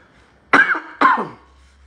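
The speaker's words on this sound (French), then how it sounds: "je tousse un peu." Two short, close coughs half a second apart, sharp and throaty, in an otherwise quiet room.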